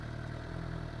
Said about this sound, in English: That was maybe about a 5K RPM rev